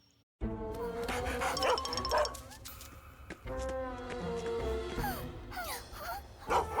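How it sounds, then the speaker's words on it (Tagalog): A cartoon service dog barks and yips repeatedly with whining, sustained tones between barks, loud and close, over a busy background. "Isang aso na serbisyo!"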